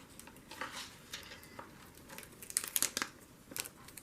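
A sticker is peeled and pressed into a journal in faint papery crinkles and soft tearing rustles, with a few sharper crackles toward the end and no talking.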